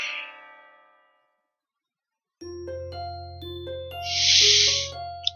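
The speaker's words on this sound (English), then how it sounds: "But the bell rings and cuts me off" In the Katawa Shoujo video game, a school bell chimes a stepped electronic melody, a clear repeating ding-dong pattern over a low steady hum, with a brief hissing swell near the end and no speech.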